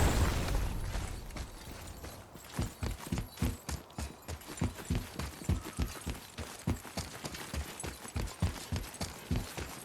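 Horse hooves clip-clop steadily in the God of War game on PlayStation 4, a quiet, even rhythm of hoofbeats with faint mechanical clatter behind it.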